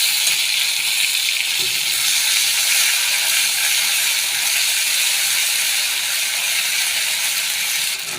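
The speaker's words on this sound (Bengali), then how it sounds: "তেলটার মধ্যে একটা তেজপাতা দিয়ে দিলাম, আদা লঙ্কা বাটা দিয়ে দিলাম," Bay leaf and ginger-chili paste sizzle in hot oil for a Bengali pabda fish curry, a steady, loud, dense hiss that stays even throughout with no voices.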